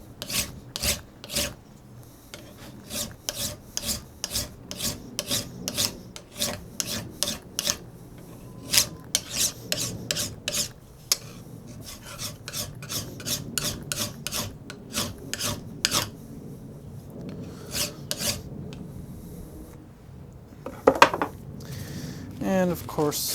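Smooth hand file worked down a metal vise edge to round off its corners, giving a steady run of sharp rasping strokes in quick rhythm, close and fairly loud, with a brief clank near the end.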